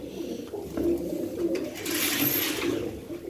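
Pigeons coo at the Istanbul pigeon market, several soft low calls repeating under a busy outdoor hubbub with no voices up front.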